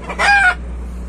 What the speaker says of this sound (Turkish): Horozlar.